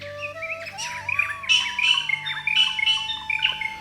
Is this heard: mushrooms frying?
no